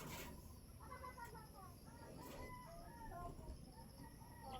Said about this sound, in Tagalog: Diyan mayroong lang ibon diyan guys oh.